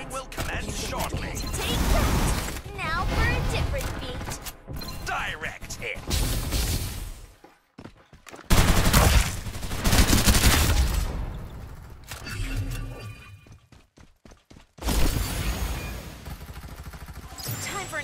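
In-game gunfire and combat effects from a Farlight 84 ranked match: bursts of shots, impacts and crashes broken by short silences, with game announcer voice lines over the action.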